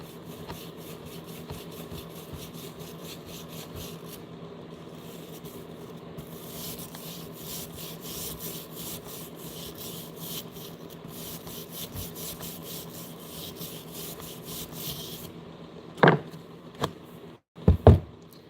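A brush scrubbing clean a dynamo generator part, producing rapid repeated scratchy rubbing strokes that continue for most of the stretch and end in a few sharp knocks and taps.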